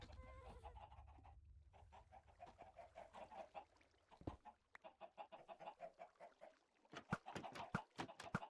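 Chickens cluck and squawk in Minecraft, a run of short, repeated bird calls near and fairly quiet, ending in a louder burst of rapid clucks.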